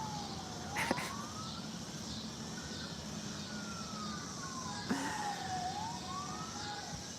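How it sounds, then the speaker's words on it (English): A fire truck siren wails, sweeping slowly up and down at moderate distance over steady traffic rumble, with a couple of brief sharp knocks along the way. "It sounds like they came back closer again with the sirens."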